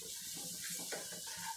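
A small spoonful of water is sprinkled over roasted gram flour (besan) in a pan with ghee while making besan ladoo. It gives a faint, close watery hiss and sizzle with soft stirring sounds.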